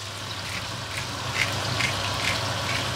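An onion pork chop seasoned with five-pepper mix sizzles in a hot pan, a continuous close hiss with faint crackling pops that holds steady for three seconds.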